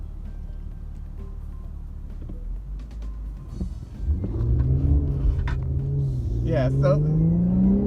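A car rumbles past on a road, the low engine drone swelling from quiet to a loud, close roar over several seconds, with someone talking briefly beforehand.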